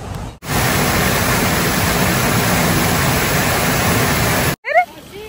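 A small fountain at a fish farm splashes nearby in a loud, steady rush of falling water that starts and stops abruptly, followed by a brief snatch of voices at the end.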